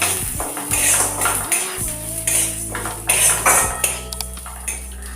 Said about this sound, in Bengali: এই মুগ ডালগুলো ভেজে নেব